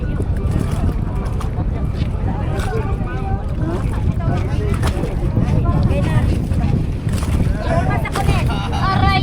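A boat engine drones continuously under strong wind noise at El Nido, Palawan, with people talking over it.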